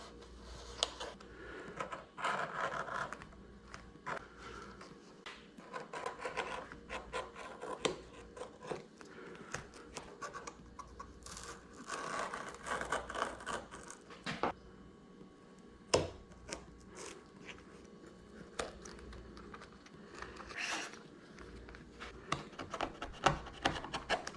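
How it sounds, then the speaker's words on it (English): A scalpel trims away excess material while finishing a wall pedestal, giving soft, irregular cutting and scraping strokes with small clicks and rubs, close by and fairly quiet, with no speech. "now we're gonna take our scalpel and we're gonna trim out the excess."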